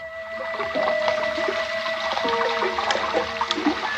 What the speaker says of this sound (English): That's the way it sounded when it rained, because the room was just below gutter level, and the rainwater rushed by the room's only window.